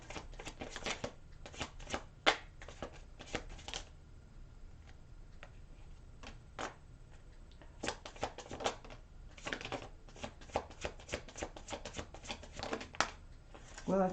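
Tarot cards being shuffled during a reading, with a steady run of crisp riffling flutters and slaps repeated throughout, close and clear, with no talking.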